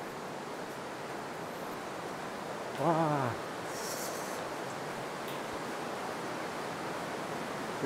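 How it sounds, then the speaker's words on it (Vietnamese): A stream flows loudly inside Ngườm Ngao limestone cave in Cao Bằng, a steady broadband rush of water filling the space, with a brief tonal sound near the middle. "Cái dòng suối ở trong động sao chảy rất to nha các bạn."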